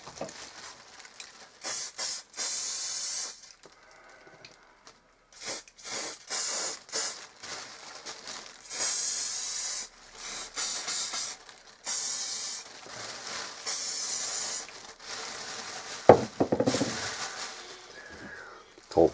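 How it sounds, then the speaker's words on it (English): An aerosol can of lacquer sprays onto a deserted treecreeper nest inside a bag, in a series of loud hissing bursts of one to two seconds separated by short pauses, with soft rustling between. "The whole point of this lacquer is you can actually spray this on foliage, dry foliage."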